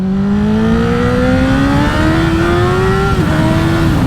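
Vehicle scrubbing in new tyres on the road, with a loud close engine droning and climbing steadily in pitch through one gear, then a brief dip as the revs shift and settle, no voices.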